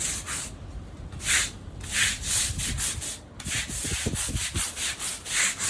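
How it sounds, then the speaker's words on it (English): A scrub rubber is worked back and forth over a surface coated with KleenKote cleaner, producing close, rhythmic abrasive strokes with a brief pause midway before scrubbing resumes. "We're now going to rub the scrub rubber"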